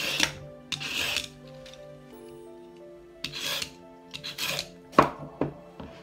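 A carrot being peeled by hand in a kitchen: a series of short, quiet rasping scrapes, about seven strokes with uneven pauses, over a faint tonal background.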